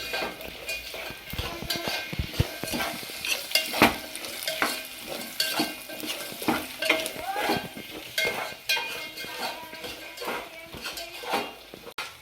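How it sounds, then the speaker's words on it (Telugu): Upma with carrots stirred in a pan, a spoon repeatedly scraping and clinking against the metal in a busy, continuous rhythm over a light sizzle. "క్యారెట్స్ వేసుకోవాలి. వేసుకొని కలపాలి బాగా."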